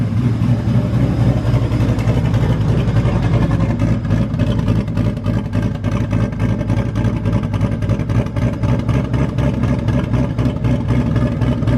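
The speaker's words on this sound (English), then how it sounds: "feeding it more timing and it raises the idle. Now listen at it down here." A built V8 car engine idles high with extra ignition timing, a steady, loud, close rumble with a fast even pulse and no lope, running on alone without talking.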